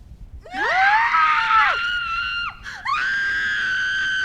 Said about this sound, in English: Scream all you want.